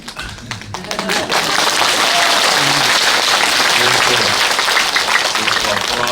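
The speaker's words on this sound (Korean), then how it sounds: "Questo applauso è per Gesù Cristo" A church retreat audience breaks into loud, sustained applause that builds over the first second and then holds steady as a dense wash of clapping, with voices mixed in underneath.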